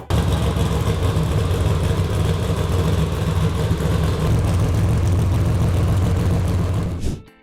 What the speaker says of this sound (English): custom-built trophy truck is a true beast of off-road engineering